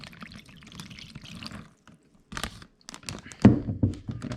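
Screenwash liquid is poured into a container in an uneven, close trickle and splash. It starts after some handling and crinkling, and a louder gush comes near the end.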